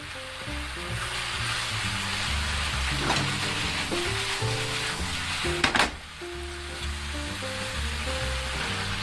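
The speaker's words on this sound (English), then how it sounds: "Then quickly mix and toss everything until the sauce thickens" Chicken and vegetable stir fry tossed in a pan, a steady broadband sizzle running throughout with a brief louder clatter of tossing midway, under continuous background music.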